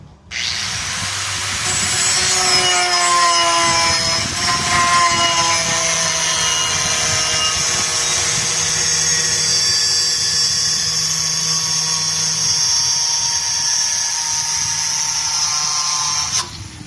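A cutting wheel grinds into metal during welding and fabrication work, a loud continuous high-pitched shriek with a rough, rasping edge that holds steady for about fifteen seconds, then cuts off abruptly.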